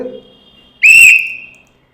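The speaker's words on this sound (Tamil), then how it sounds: "bus conductor ஊதுற whistle" A bus conductor's whistle gives one sharp, shrill blast lasting under a second, loud and close. A brief murmur of voice comes just before it.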